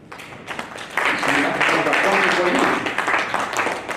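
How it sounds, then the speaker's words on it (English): Applause rises from a summit panel audience, swelling into a dense wash of clapping after a quiet start, with a voice talking through it. "Clap for them, please."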